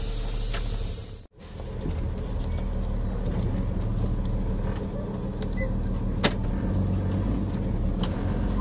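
A fire department vehicle rolls along the road during a power outage response, its engine and road noise a steady, loud drone throughout, broken by a brief thump and short dropout early on.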